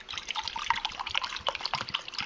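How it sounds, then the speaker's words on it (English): Water pours from a canteen into a measuring cup, about eight ounces, a soft steady trickle with small splashes and drips close by, fairly quiet and without any talking. "we'll just measure out 8 ounces of water"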